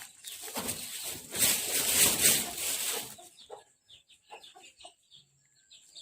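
Farmyard chickens cluck and squawk in the morning near a village home, loud close bursts for about three seconds, then softer scattered clucks and rustling.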